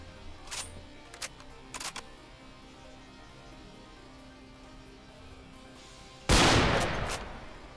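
A bolt-action rifle fires in a modded Minecraft Java 1.12.2 game, heard as a few light clicks followed by one loud sudden blast that rings out for about a second.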